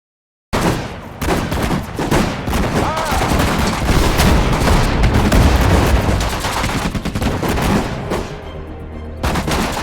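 Gunfire in the World War II strategy game Sudden Strike 4 during a hedgerow battle: dense, loud bursts of rifle and machine-gun fire layered with booms, continuous for several seconds before cutting off near the end.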